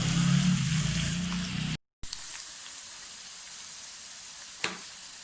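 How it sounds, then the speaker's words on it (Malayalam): Ivy gourd (kovakka) frying in oil gives a steady close sizzle with a brief dropout partway through, followed by a quieter, even hiss and one faint clink near the end. "അപ്പോൾ നമ്മുടെ കോവയ്ക്ക കണ്ടോ നന്നായി ഫ്രൈ ചെയ്യുന്നുണ്ട്"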